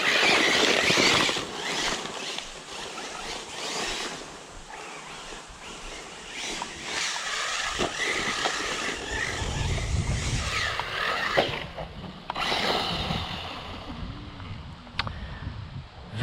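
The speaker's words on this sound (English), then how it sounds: "Very loud drivetrain." An Arrma Typhon 6S RC car's drivetrain whines loudly with shifting squeals and rasping bursts, mixed with wind buffeting the microphone outdoors.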